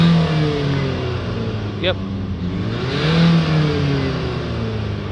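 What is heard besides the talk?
Ford Transit Connect engine hard revs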